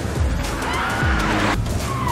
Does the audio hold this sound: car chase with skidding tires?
yes